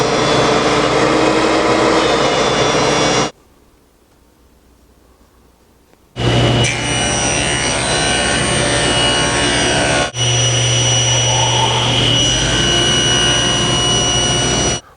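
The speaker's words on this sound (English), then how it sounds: "I want to plane this down until it's the same height as this bit" A router planes a cherry wood board flat and level, a loud steady high whine that runs for three seconds, stops briefly, then starts again and runs on continuously, with no talk.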